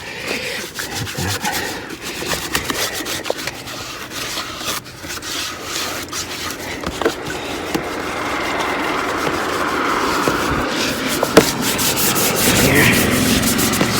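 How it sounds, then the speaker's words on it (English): Soft bristle brush scrubbing a car's exterior during a basic detail, a steady close rubbing and swishing that continues without pause, with no talking. "this is a soft bristle brush, trying not to damage anything. So we're just gonna hit this"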